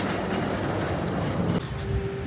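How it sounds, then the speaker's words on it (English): Ride to Happiness roller coaster trains at Plopsaland Belgium rumble along the track in a loud, continuous roar with a clattering wheel texture that briefly shifts in pitch partway through. "I've just heard the Ride to Happiness trains move"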